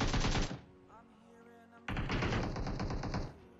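Automatic gunfire in the mobile battle royale game PUBG Mobile, a dense loud burst of rapid shots that stops briefly and then returns as a second sustained volley, close and dominating the sound.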